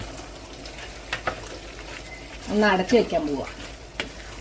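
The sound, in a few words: coriander leaves stirred into sizzling mutton curry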